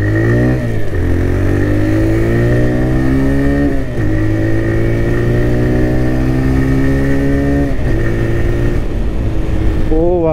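A TVS Raider 125 motorcycle engine pulls steadily while riding, revs rising through the gears with brief dips at each shift, loud and close with wind noise throughout.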